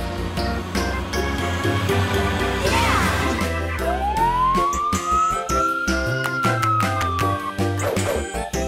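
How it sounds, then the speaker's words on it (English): A fire engine siren wails loudly, sweeping up and holding in a long rising and falling tone over a busy music-like backdrop. "Fire engine."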